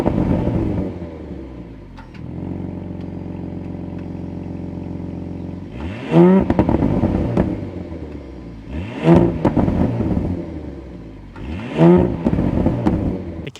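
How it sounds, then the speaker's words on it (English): A 2026 Audi SQ5 Sportback's engine cranks and catches, settles into a steady idle, then three sharp revs blare from the exhaust, loud and close, with no voices. "We need to go inside and start this up so you can hear the exhaust note"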